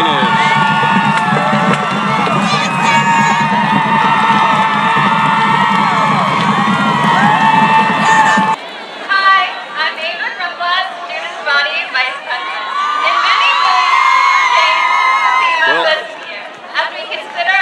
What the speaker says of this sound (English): They're very pleased in the crowd with who the homecoming queen is.